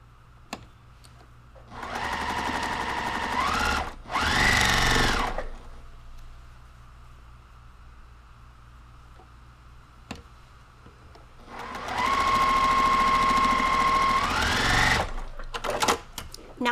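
A sewing machine stitches a quilt block in two loud bursts of rapid mechanical whirring, with a quiet pause between them and faint clicks around the runs.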